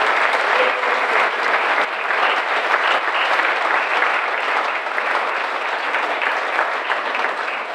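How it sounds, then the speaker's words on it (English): Audience applause at a library donor event for kids, a dense, steady wash of many hands clapping from start to finish, loud and sustained with no break. "So give yourselves a round of applause."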